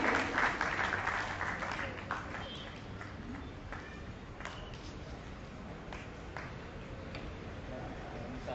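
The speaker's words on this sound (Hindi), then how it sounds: "तालियां बजाकर आप हमारे अतिथि का सम्मान करेंगे।" An audience claps to honour a guest at a Mahavir Bhagwan devotional gathering. The applause is loudest at the start, then thins into scattered, fading claps.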